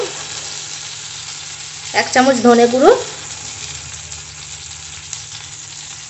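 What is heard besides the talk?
spices frying in oil for potol chingri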